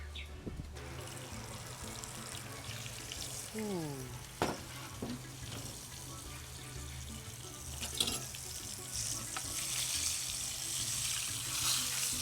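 Pieces of fish frying in a pre-heated pot of oil for Trini stew fish: a steady, close sizzle and crackle that carries through the whole stretch, with a brief voice heard once partway.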